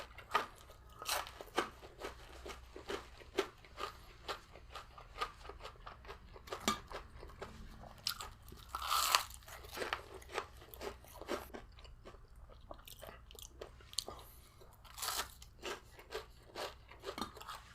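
Fried onion ring and fries being eaten up close, with repeated crisp crunches and wet chewing in an irregular rhythm, loud and near, no talking.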